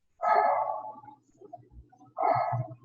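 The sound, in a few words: dog barking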